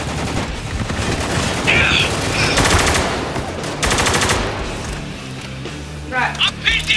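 Sustained machine gun fire rattles in Spec Ops, dense rapid bursts that swell and fade, overlapping with shouting voices and a few sharp metallic pings.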